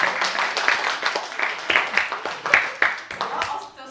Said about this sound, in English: I thought you were applauding me.